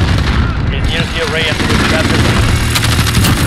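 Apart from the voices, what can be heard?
automatic sentry machine gun firing in a video game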